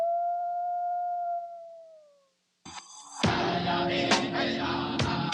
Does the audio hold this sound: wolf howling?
yes